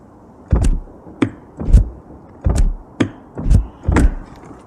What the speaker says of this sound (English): when you go to open the window, or open the door I should say, because they're frameless doors, the window drops slightly when you pull the handle